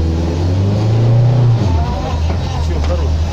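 A car engine revving during a driving lesson for student racers, a loud steady hum that rises and holds before easing back, with people talking over it.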